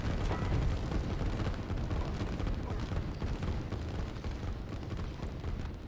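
Artillery barrages pound a single tank in the real-time strategy game Line War, a dense, continuous roar of overlapping explosions and gunfire that stays loud throughout.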